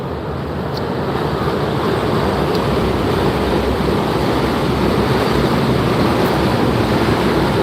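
High water surges against the shore at a lighthouse beach, a loud, continuous roar of surf mixed with buffeting wind on the microphone.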